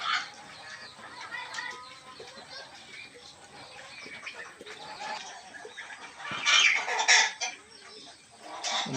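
Peruvidai chickens and roosters cluck and squawk in a farm yard, a busy mix of overlapping calls with a louder burst of excited clucking near the end.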